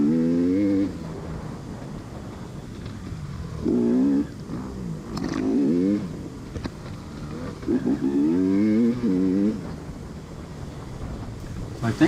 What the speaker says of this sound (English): right about here I hear a 4-stroke behind me